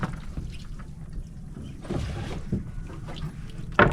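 A fishing boat heads out to the open sea with a low engine rumble under gusting wind noise on the microphone, building slightly midway, and a sharp knock or splash near the end.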